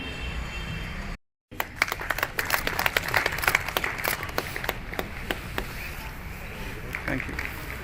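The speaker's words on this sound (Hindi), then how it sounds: "तालियां रुकनी नहीं चाहिए, तालियां बजती रहनी चाहिए।" Audience applause at a Jammu and Kashmir news event, steady crowd clapping interrupted by a brief silent gap near the start, then continuing evenly with scattered sharper claps and some voices in the background.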